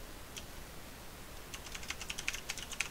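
Typing on a computer keyboard while writing Python code: quiet, close key clicks that start sparse and build into a quicker, irregular run of taps during the final second and a half.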